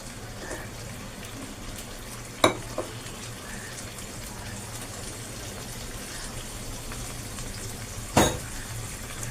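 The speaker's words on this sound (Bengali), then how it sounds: "যেহেতু তেলটা আগের থেকেই গরম ছিল সেই জন্য আমি এই মশলাটাকে ঢেলে দিচ্ছি" Spice paste poured into already hot oil for a Bengali shrimp, drumstick and poppy-seed dish gives a steady, even sizzling hiss, broken by two sharp pops or clanks a few seconds apart.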